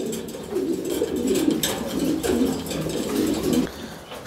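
A pair of white fancy pigeons coo in a steady, repeating rhythm of soft, throaty calls, close and fairly loud, with no voices over them.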